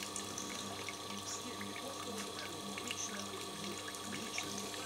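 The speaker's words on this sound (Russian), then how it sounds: "Побежала вода." Water runs steadily from a tap as the pump of a CB 5 controller setup starts refilling, a continuous close hiss and splash with a faint mechanical hum underneath.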